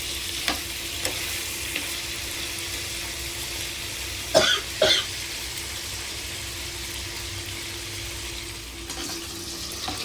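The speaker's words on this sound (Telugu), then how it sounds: "పిల్లలకి కొద్దిగా ఫ్రై చేద్దాం అని చెప్పి తీసి ఫ్రై చేస్తున్నాం అనమాట" Chicken pieces frying in a pan make a steady sizzle throughout, with two short clatters of stirring or a spatula near the middle.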